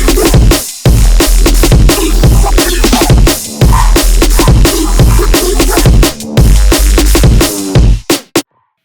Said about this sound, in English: And there goes the main synth.